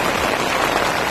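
Morning rain falling while camping, a dense, loud, steady patter of drops on a surface close by, with no voices.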